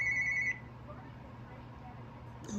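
A telephone rings once in a room with a steady electrical hum, the tone cutting off after half a second, then a fresh ring beginning near the end.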